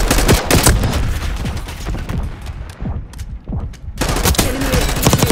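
Rapid automatic gunfire and explosions in Call of Duty Black Ops 6 rattle loud and close in dense bursts, with a brief lull in the middle before firing resumes.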